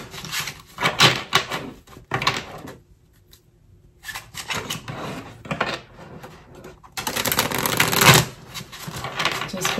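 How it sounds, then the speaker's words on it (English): Tarot cards are shuffled close up in repeated riffling bursts, with a short quiet pause between rounds and several brisk flurries after. "Just bear with me while I shuffle."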